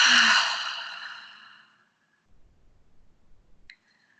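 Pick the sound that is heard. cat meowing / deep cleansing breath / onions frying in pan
deep cleansing breath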